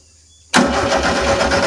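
After half a second of quiet, an old VW fire truck engine, unused for more than twenty years with only 86 hours, suddenly fires up and runs on with a close, choppy mid-pitched rumble.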